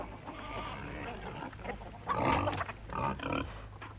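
Pigs grunting on a farm, a rough, throaty burst of snorts and grunts near the middle and again toward the end over a low steady hum of the sty.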